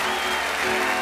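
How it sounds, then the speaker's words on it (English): Brief burst of dense audience applause at a magic show, steady and close-sounding for about a second. "Big round of applause!"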